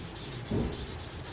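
A single bevel Ando reed knife is drawn across a sharpening stone on its bevel side, a soft close rasping rub swelling briefly in one stroke.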